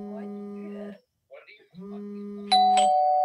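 A doorbell at a home's front door sounds as a repeated two-tone electronic chime, close and clear, with a brighter higher ding-dong ringing out near the end alongside a buzzing phone, no talking.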